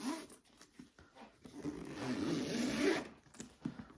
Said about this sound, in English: I love how tightly that zips up.